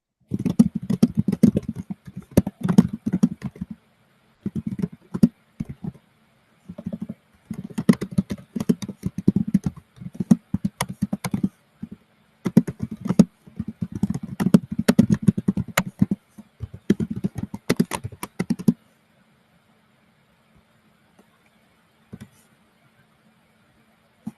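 Typing on a computer keyboard, bursts of rapid soft key clicks in uneven clusters with brief pauses, close and fairly loud, stopping abruptly near the end and leaving quiet hum.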